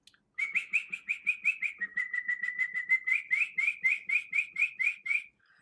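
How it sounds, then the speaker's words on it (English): A canary singing a bright, rapid run of repeated whistled notes, a steady trilling series that shifts pitch slightly midway, close and clear against a quiet background with no talking. "oh, is that a canary?"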